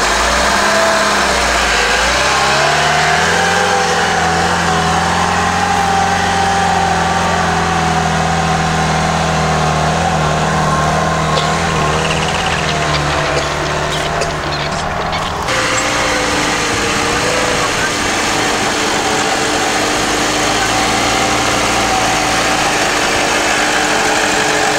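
An SUV with an automatic transmission pulls away slowly off-road. A loud, close engine drone holds steady, its pitch shifting low and shuddering as the vehicle creeps forward, with no talking.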